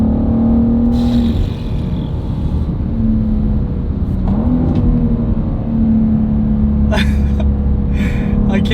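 A BMW M2 G87 is driven hard through twisty roads, its steady engine drone and tyre roar filling the cabin while the pitch shifts slightly through the bends, with a few brief clicks and sharp noises near the end.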